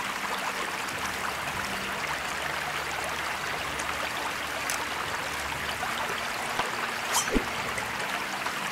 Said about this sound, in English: This water is very loud.